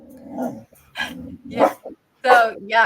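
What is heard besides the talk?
dog barking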